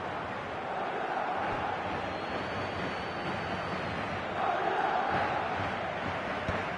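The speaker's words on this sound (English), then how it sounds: "the matchday noise at this place is truly special" Stadium crowd noise in the eFootball game, a steady, distant roar of many voices that swells slightly near the end.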